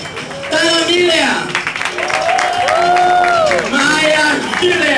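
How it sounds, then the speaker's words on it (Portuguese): A live audience applauds and cheers for drag performers at the finale of a show: loud, dense clapping with whoops and voices rising over it, continuous throughout. "Os aplausos para Taylor Miller"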